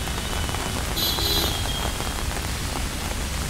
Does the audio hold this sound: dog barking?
no